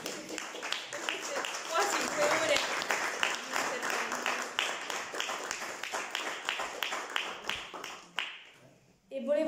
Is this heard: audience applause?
yes